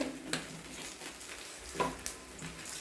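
Whole cumin seeds crackling in hot oil in an unwashed kadai, a soft steady sizzle with a few sharp pops and spits, fairly quiet and with no talking.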